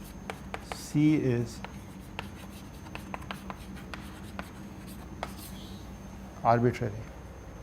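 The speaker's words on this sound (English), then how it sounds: "So, maybe I just write it down," Chalk or marker writing on a board during a fluid mechanics lecture, faint scattered taps and scratches between two brief spoken phrases from the lecturer.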